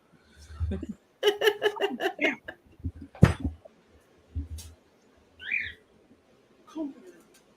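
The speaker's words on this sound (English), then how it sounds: "This is now turned into a bird rescue." A pet bird lets out a series of loud, shrill squawks and whistles in short bursts, with pauses between the calls.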